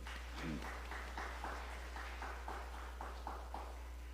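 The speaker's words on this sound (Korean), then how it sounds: "그분들에게도 박수 부탁드립니다." A church congregation applauds during a sermon, a faint, distant patter of claps in a steady rhythm over a low electrical hum.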